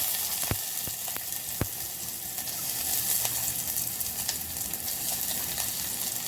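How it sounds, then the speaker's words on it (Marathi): Onion frying in hot oil for a dried small fish curry, a continuous close sizzle with a few sharp clacks, likely from a stirring spoon on the pan. "की मग कांदो घालायचा."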